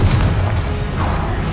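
A Confringo blasting curse explodes in the Hogwarts Legacy video game, a loud, rumbling blast that fills the whole short moment with deep, dense low boom.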